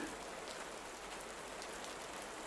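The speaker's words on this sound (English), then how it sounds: "Let the sound of the rain wash over you." Steady rainfall, a soft continuous hiss of drops on surfaces, even and unbroken, fairly quiet and heard alone.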